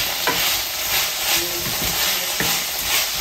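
Curry frying in a pan, a steady broadband sizzle with a few scraping stirs of a spatula, close and continuous throughout.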